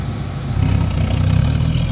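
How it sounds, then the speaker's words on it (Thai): A truck engine revs hard to help lift a heavy load, a steady loud low rumble that swells slightly louder partway through and holds with no talking. "มันจะ ต้องเร่งเครื่องช่วยครับ"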